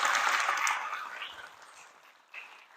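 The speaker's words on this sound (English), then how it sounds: "Round of applause for Mr." Applause for a school board member at a State of the Schools event, a burst of clapping that starts loud and fades away over a couple of seconds.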